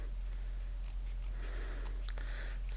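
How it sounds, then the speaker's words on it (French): Scissors cutting off overhanging paper while making a scrapbook embellishment, a series of close, quiet snips and crisp paper rasps over a steady low hum. "Et je vais donc découper ce qui déborde."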